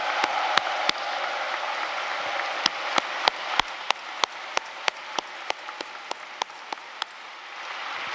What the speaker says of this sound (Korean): 윤석열 당선인께 뜨거운 박수를 부탁드립니다.